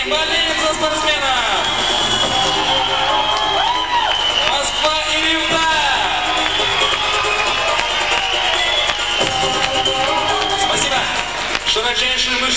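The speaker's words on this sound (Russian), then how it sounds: "Болеем за спортсмена." Spectators at a 1999 bodybuilding championship cheer and shout for a competitor, a dense, loud crowd roar with whoops and yells layered over music that keeps running beneath it.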